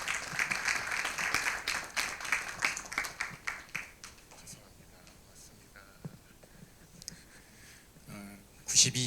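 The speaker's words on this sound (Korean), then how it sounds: "박수로 모시겠습니다." A congregation at a 50th-anniversary worship service for a Korean Christian youth council claps in a brief round of applause that fades out within a few seconds, followed by quiet hall noise and faint murmuring.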